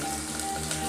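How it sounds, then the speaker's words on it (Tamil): Mustard seeds crackle and sizzle in hot oil in a pot for keerai sambhar, a dense steady frying hiss with fine pops, close and alone. "இப்போது அந்த கடுகு நல்லா பொரிஞ்சாச்சு."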